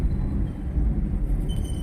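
A car driving in third gear during gear-shifting practice, a steady low engine and road rumble filling the whole stretch at an even, moderate level with no talk.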